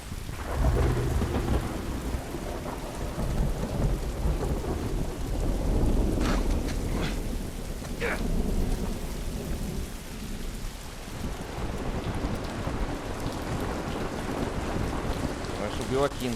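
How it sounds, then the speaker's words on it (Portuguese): Rain pours steadily with rumbling thunder in The Last of Us video game, a continuous loud downpour with a few sharp crackles of thunder mid-way, the storm filling the scene. "Legal, tá chovendo."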